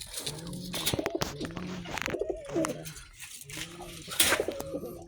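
Racing homing pigeons coo repeatedly in low, rolling phrases, with wing flutters and chatter mixed in.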